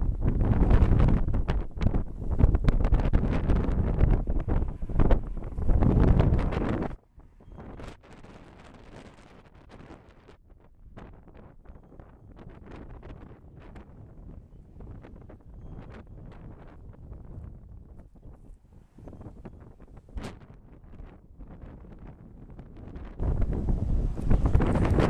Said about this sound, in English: That is frickin' windy.